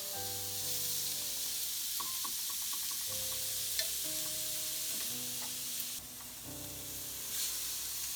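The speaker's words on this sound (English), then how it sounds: "Now we're going to let them cook until the onions and celery get soft and golden brown." Chopped onions and celery sauté in a pan for a Christmas turkey dinner, giving an even, moderate sizzle with occasional light stirring clicks under soft background music.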